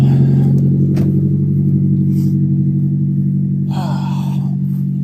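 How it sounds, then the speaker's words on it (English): A motor vehicle engine idles with a loud, steady low rumble close by, while faint voices speak over it at moments. "We're gonna let this thing idle just a little bit."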